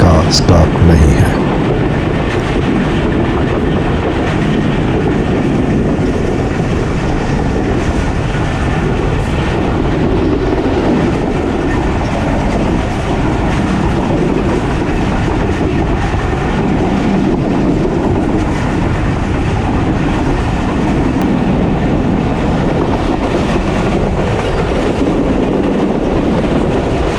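The Pakistan Express rolls loudly through the Lundu station yard in Pakistan, a constant heavy roar of wheels and carriages with rhythmic clatter, close and unbroken throughout.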